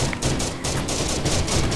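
Rapid video game gunfire crackles in a dense, continuous volley, with bursts overlapping loudly throughout and no voices on top.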